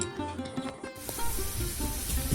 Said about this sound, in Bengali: এই দুটো লুচি ভাজা হলেই আমার হয়ে যাবে